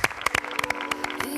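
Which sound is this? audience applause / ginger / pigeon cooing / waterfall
audience applause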